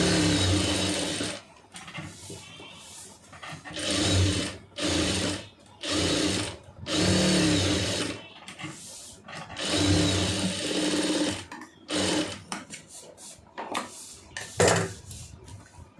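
A sewing machine stitches a blouse in repeated bursts of a few seconds each, separated by short pauses, loud and close, with no talking.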